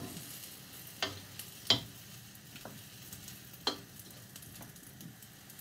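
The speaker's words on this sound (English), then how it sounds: "Give that a good stir around." Pork pad thai stirred in a hot pan, a soft background sizzle with a few sharp scraping knocks of the utensil against the pan at irregular intervals, fairly quiet.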